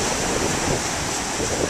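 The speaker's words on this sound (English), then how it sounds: "loves the ocean, although it's freezing and rough" Rough, freezing ocean surf rolls onto a beach on an overcast day, a loud, steady roar of breaking waves with wind noise buffeting the microphone throughout.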